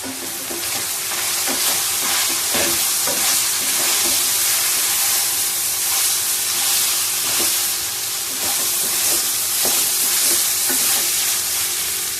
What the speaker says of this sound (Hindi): देखिए कितना अच्छा फ्राई हो रहा है